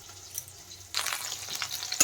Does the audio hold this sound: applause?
no